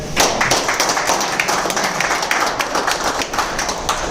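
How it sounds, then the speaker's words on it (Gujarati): Loud, sustained clapping from a crowd welcoming two senior members at a business gathering, dense and steady throughout without a break. "આપણા બંને સિનિયર વાળા જોરદાર તાળી થઈ જાય"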